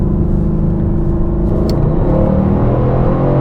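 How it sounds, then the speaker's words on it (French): A Mercedes-AMG GT S coupe's V8 roars loud and close, a dense low rumble rising gradually as the engine revs under load, with no talking. "c'est génial, le V8 AMG quand même"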